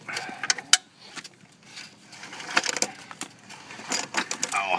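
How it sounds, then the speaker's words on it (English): Metal motorcycle chain from a 500 scrambler being pulled off its sprocket, a series of close, light rattling clinks and jangles in irregular bursts, with brief quieter gaps between. "Just pull your chain out."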